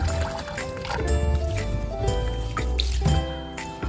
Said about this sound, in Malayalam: 3-4 തവണ നല്ല വെള്ളം ഒഴിച്ച് അരി നന്നായി കഴുകുക